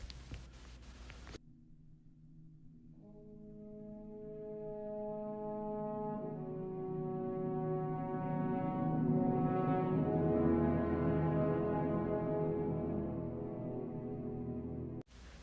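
An orchestra plays a quiet passage from Rautavaara's Symphony No. 3, built on a lower-neighbor-note motif. Sustained low brass and strings slowly swell into a rich, dense chord that holds steady to the end.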